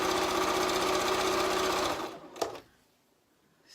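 A sewing machine stitching piping onto a fabric cosy cover runs in a steady, loud, fast whir for about two seconds, then stops with a sharp click and goes quiet.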